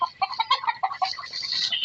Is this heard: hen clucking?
yes